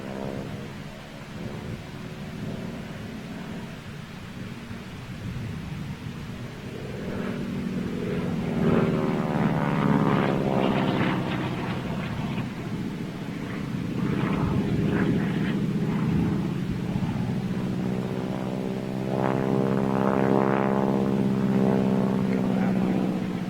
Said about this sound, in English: Lovely sound of the radial engine.